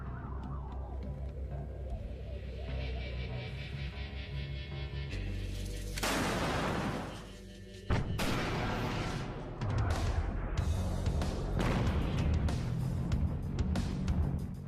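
Rocket launcher firing at a tank: loud, dense rumbling blast noise, a sharp break, then renewed roaring and booming that continues steadily to the end.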